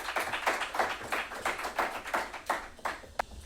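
A small audience at a sports psychology conference gives a brief round of applause, a dense patter of claps lasting a few seconds and fading out at the end.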